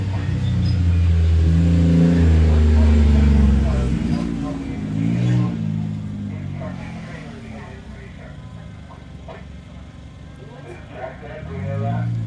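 A race truck's engine revs loudly near an off-road course, rising and then easing off into a fading mechanical rumble with rattles, and a voice speaks over the later part.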